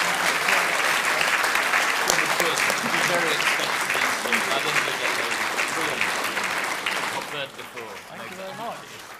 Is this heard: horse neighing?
no